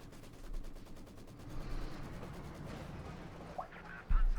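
Faint rattling small-arms fire aimed at a pioneer unit in the WWII strategy game Company of Heroes 2, crackling in a quick, distant burst over quiet battlefield ambience, with a sharper thump near the end.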